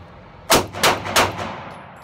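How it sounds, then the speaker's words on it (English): Three sharp gunshots from a Springfield XDS pistol crack out at an even pace, loud and close, each followed by a short ringing tail, with no talking. "my XDS, and I'm going to shoot for the upper chest"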